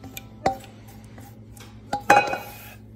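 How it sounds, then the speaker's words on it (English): Cooled chocolate being whisked into egg yolks and sugar in a bowl, with a few scattered sharp clinks of the whisk against the bowl and quiet gaps between. "Add your cooled chocolate and whisk it in."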